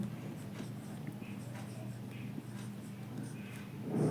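Pen writing a word on paper or a board during a maths lesson, light intermittent scratching strokes under steady talk.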